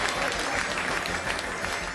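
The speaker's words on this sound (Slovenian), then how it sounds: "morda malo močnejši aplavz" A crowd at a Slovenian footballer-of-the-year award ceremony applauds in a continuous, full burst of clapping, steady and close throughout.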